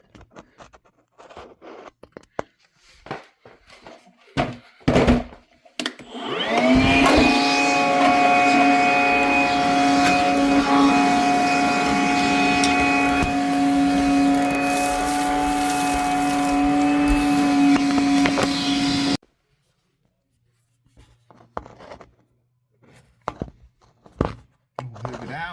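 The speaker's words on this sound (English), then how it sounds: "Need to hoover this out." A vacuum cleaner roars steadily for about thirteen seconds while sucking soot out of an oil boiler during a basic service, loud and close with a droning motor whine, framed by clunks and scraping handling noises before and after.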